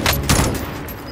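Rapid bursts of gunfire in the video game Warzone, loud and close, a quick volley fading into a rough game-audio tail during a downtown match.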